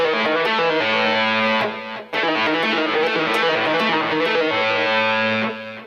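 Heavily distorted electric guitar plays a riff slowly, a dense, loud driving chug with a brief dip midway before continuing, fading at the end.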